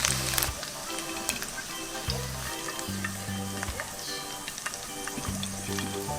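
Eggplant and tofu rolls sizzle and crackle steadily in a hot pan as they pan-fry until golden, close by, with soft music playing in the background.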